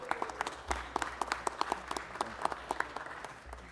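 Scattered hand clapping from a small audience, uneven and moderately loud, with a few sharper individual claps standing out.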